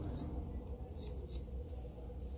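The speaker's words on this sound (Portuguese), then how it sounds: "vou ter que trabalhar com a tesoura desfiadeira, que é essa tesoura aqui" Thinning scissors snip through hair in a barbershop, several light, quick metallic snips over a steady low background hum.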